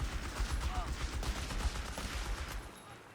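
Rapid bursts of gunfire crackle faintly throughout a World War II strategy game battle on a beach map, where a 6-pounder anti-tank gun is in action; the shots sound distant and overlapping rather than as single clear reports.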